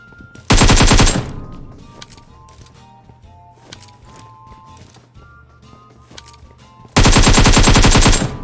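Uzi submachine gun fire in PUBG Mobile, heard as two loud, rapid bursts, one early and one at the end, with quieter game sounds and scattered clicks between them.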